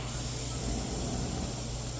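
An airbrush sprays paint onto a bluegill-pattern crankbait fishing lure, a steady close hiss with a low hum beneath, continuous and unbroken.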